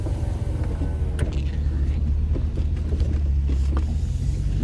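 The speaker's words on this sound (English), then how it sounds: "There's one car coming." A car passes on the road close by, a steady low engine rumble under the idle of a 1993 Range Rover Classic, loud and continuous with a few brief clicks.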